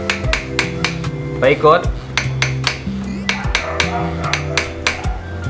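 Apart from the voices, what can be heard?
small hammer tapping a stuck drill bit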